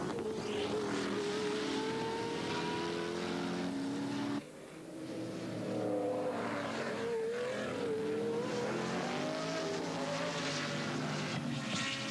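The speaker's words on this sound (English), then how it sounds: "just the sound of this Cosworth, Bap Romano's car, as he closes on the race" A 1986 Cosworth-engined touring car at speed in the AMSCAR series, a loud, continuous high-revving engine howl with shifting pitch and a brief dip as it changes gear, with no talk.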